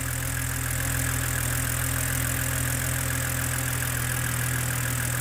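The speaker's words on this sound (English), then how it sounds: "Oh, that's a lovely engine" A BMW N52 engine idles steadily nearby, a loud, constant mechanical hum with a fine ticking pulse running through the whole clip, and no talking.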